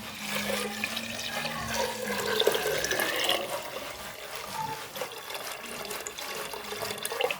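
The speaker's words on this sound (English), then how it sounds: "In a pot, I will pour my coconut juice" Coconut water pours steadily into a pot for several seconds, a close, continuous splashing and gurgling with no talking.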